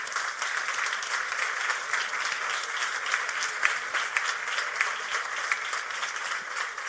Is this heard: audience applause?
yes